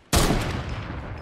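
A single loud, close sniper rifle shot in Fortnite cracks out sharply after a brief silence, then decays into a rolling echo.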